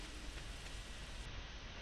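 Steady rain falls in the farming game Stardew Valley, a dense, even hiss of drops at moderate level that continues unbroken, with no voices over it.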